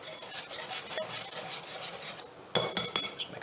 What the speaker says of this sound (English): This is a pastry blender.